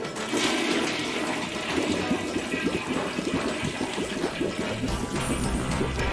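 Toilet flushing in I Am Fish, a loud, steady rush of swirling water that keeps going for several seconds, up close with no voices.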